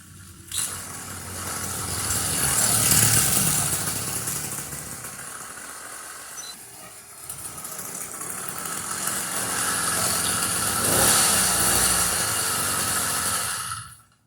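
Small gasoline engine on a motorized bicycle running steadily after starting, a mid-pitched buzzing idle that swells and eases in loudness over several seconds, close to the microphone, with no talking.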